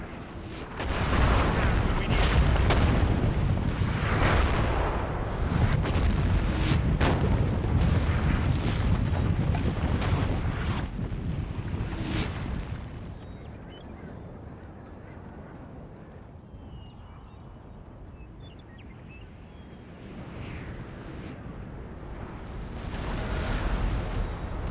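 Napoleonic cannon artillery in the Napoleon: Total War strategy game, rolling volleys of heavy booms piling up loudly for the first half, then easing into a quieter, sparser rumble before a few more blasts return near the end.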